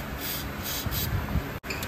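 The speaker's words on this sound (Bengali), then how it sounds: "মানে WD-40 মারা হচ্ছে।" WD-40 lubricant sprayed onto a rusted, stiff rear brake on a motorbike: a continuous close hiss with light rubbing, broken by a brief pause near the end.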